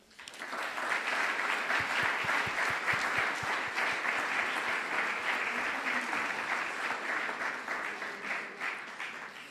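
Audience applause at a classical concert for young performers in a Paris hotel hall, opening with distinct individual claps and then swelling into a sustained, full round before tapering slightly at the end.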